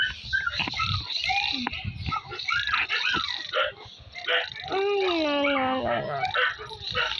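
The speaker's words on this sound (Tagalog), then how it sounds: "ingay-ingay ng mga aso dito sa kapitbahay namin" Several dogs bark, yip and whine in overlapping bursts nearby, with a drawn-out howl-like cry midway.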